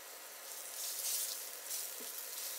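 Dried red chillies and chopped garlic sizzle in hot oil, a soft, steady crackling hiss that swells and eases over a few seconds, faint and alone.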